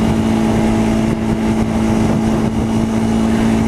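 A 2015 Honda CBR 300R ABS in third gear at almost 50 mph produces a loud, steady engine drone mixed with rushing wind, continuous and close throughout.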